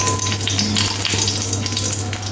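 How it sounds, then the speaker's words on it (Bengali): A dried red chili dropped into a little hot oil for a prawn and kolmi greens dish sizzles and fries steadily and loudly, a continuous close crackle with no talk. "তেলের মধ্যে একটা শুকনো লঙ্কা দিয়ে দেব।"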